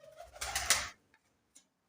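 Pigeons in a coop fitted with nest boxes give a soft, throaty coo close by, followed by a couple of faint short sounds in an otherwise quiet space.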